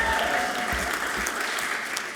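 A stadium crowd cheers and applauds at an alumni awards event, a dense, steady wash of clapping and shouting that carries loudly throughout.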